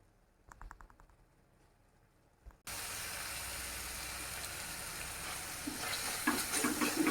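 Onions fry in a pan for a karimeen (pearl spot fish) curry. After a quiet start with a few light clinks, a loud, steady hiss of sizzling oil kicks in abruptly and keeps crackling close by.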